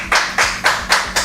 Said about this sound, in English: We have multiple people clapping now in the back.